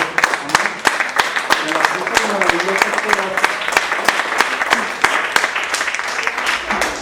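A church congregation claps in a steady, rhythmic beat, loud and close, with voices carrying over the clapping throughout.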